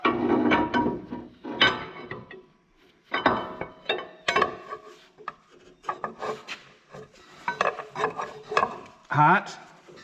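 A bolt being turned out with tools down in a hot engine bay, producing close, scraping, grinding and clicking metal rasps in irregular bursts with short pauses between.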